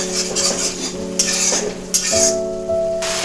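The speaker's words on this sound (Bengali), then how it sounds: "এবার মশলাটা ভালো করে কষিয়ে নেব" Spice paste with turmeric and salt being sautéed and stirred in a pan while cooking a pumpkin and tilapia dish, with scraping spoon strokes and clinks over a steady sizzle, close and alone without talk.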